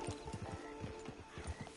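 Horse in Red Dead Online, its hooves clip-clopping in a quick irregular rhythm with a whinny mixed in, fairly faint, no talking.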